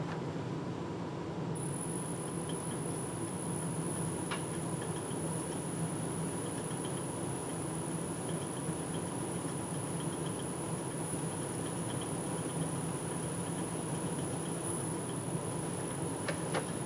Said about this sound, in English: Start the lathe, face shield on.